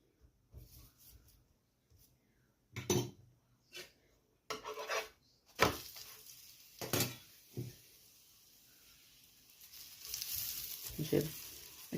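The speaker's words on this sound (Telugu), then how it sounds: "నెయ్యి కానీ నూనె కానీ, లేదా హాఫ్ నెయ్యి హాఫ్ నూనె ఏదైనా వేసుకొని ఇగో ఇలా వేసి కాల్చుకోవాలి" Paratha roasting in a pan with ghee or oil sizzles in short bursts as it is pressed and turned, quiet gaps between louder crackling patches, with a longer sustained sizzle toward the end.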